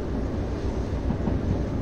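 A train braking in the Derail Valley railway game, heard as a continuous low rumbling roar with dense noise, steady and moderately loud throughout.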